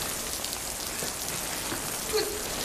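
Steady rain falls outdoors at night, a continuous even patter on hard surfaces with no voices and only a faint knock partway through.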